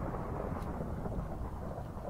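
Rolling thunder in the video game Minecraft, a loud, dense low rumble that fills the short stretch without letting up, with no voices over it.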